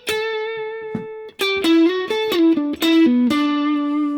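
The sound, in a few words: electric guitar playing pentatonic lick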